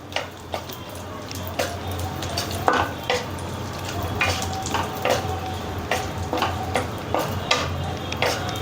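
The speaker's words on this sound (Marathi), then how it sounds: "काळे आणि पिवळे मनुका टाकते, चांगले तळून घ्यायचे ते सुद्धा." Black and yellow raisins fry in a pan on a low gas flame while preparing fenugreek laddoos: a soft, steady sizzle with repeated sharp clicks and scrapes of a spoon stirring against the pan, close and moderately loud.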